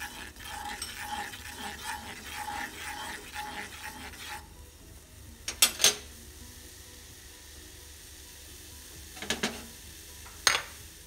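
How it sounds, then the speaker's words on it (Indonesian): Chili sambal cooks in a small pot, with steady rhythmic stirring and scraping over a soft sizzle, then a quieter simmer broken by a few sharp metallic clanks of the utensil against the pot. "Ini saya masak lagi supaya sambalnya awet sampai sore ya."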